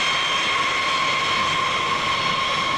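A military aircraft departs, its jet engine roaring as a steady, loud, unbroken whine with a high tonal edge, heard alone.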